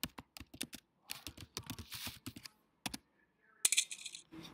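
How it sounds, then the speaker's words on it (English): Keys clatter on a computer keyboard as a password is typed, irregular bursts of close, crisp clicks with short pauses, loudest near the end. "It will ask you to type your password."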